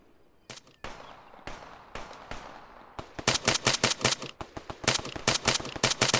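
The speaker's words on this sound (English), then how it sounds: "Taking fire!" Incoming gunfire in ArmA 3 starts as scattered single cracks, then turns into rapid, loud, close bursts of automatic fire with sharp rhythmic shots crowding together. No voices are heard.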